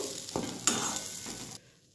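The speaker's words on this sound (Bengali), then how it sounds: "কিছুক্ষণ এইভাবে ভাজা ভাজা করতে থাকবো।" Green pea paste mixed with asafoetida and ajwain fries in a pan, giving a short close sizzle with two or three spatula scrapes before cutting off abruptly.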